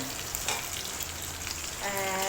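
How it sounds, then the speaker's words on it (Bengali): A fish head fries in a pan, giving a steady close sizzle and crackle that runs for the whole short stretch with no voices. "কড়কড়ে করে ভাজাই হয়ে এসছে একটু কড়া করে না ভাজলে আবার ভালো লাগে না"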